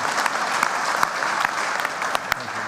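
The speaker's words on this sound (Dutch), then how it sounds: "Mag we klappen voor je?" A church congregation applauds a speaker at a service, with steady, moderately loud clapping from many hands and a few sharper individual claps throughout.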